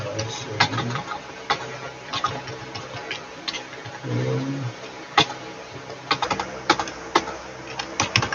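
Someone types code on a computer keyboard for a lab exam, close irregular key clicks in short bursts and pauses, with a few brief murmured sounds in between.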